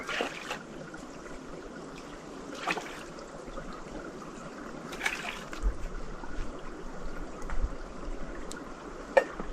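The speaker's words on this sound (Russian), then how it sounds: "Даже ручей замерз, журчит там подо льдом." A frozen forest stream trickles and gurgles faintly beneath its ice cover in a wintry woodland, a soft continuous burble with a few sharper clicks and knocks scattered across it.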